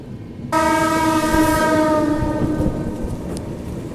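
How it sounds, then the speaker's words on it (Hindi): Rajdhani Express arriving at Gwalior Junction in thick fog, its loud sustained horn blasting over the rumble and clatter of the moving train. "यहाँ पर अपनी राजधानी एक्सप्रेस अभी पहुंच रही है ग्वालियर जंक्शन रेलवे स्टेशन पर।"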